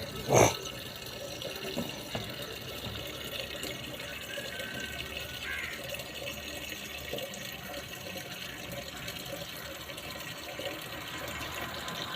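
An elderly man collects drinking water from a tap. Water runs in a faint, steady stream after a single sharp knock at the start.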